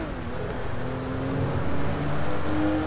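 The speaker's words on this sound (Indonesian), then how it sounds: "Wah, ini kita tancap gas." A taxi in the GTA video game accelerates hard, its engine giving a continuous loud drone that swells slightly as the car speeds up.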